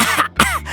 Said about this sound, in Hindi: मुंह से हवा निकालते हुए खांसते हुए कहता है